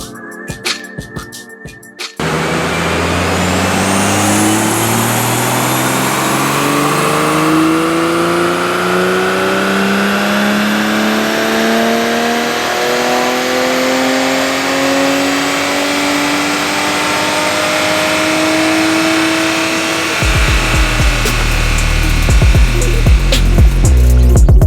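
Stock 2020 Toyota A90 Supra revving hard on a dyno, a loud engine climbing steadily in pitch over about twenty seconds with a whistling turbo above it, then cutting off into a burst of noise.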